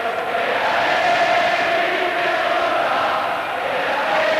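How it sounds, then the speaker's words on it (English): A stadium crowd chants steadily at a 1987 Argentina v Australia rugby test match, a loud, sustained roar of massed voices without a break. "you can hear it. Chanting."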